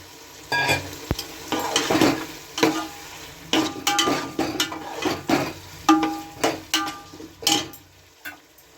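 Potatoes and chicken pieces fry in cooked-down spice masala for chicken ghugni, loud close sizzling broken by repeated rhythmic scraping and clattering of a spoon against the pot.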